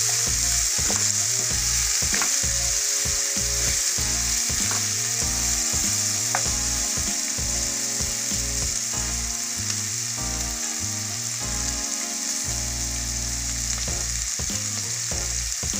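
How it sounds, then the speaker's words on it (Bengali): Ingredients for pasta sizzle steadily in a hot pan, with a continuous frying hiss broken by frequent clicks and scrapes of stirring. "দেখুন এইভাবে ভাজতে হবে।"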